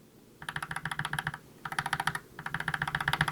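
Fast typing on an Akko mechanical keyboard fitted with green fog switches comes in three bursts of crisp, evenly spaced clacks, close and clear, with short pauses between them.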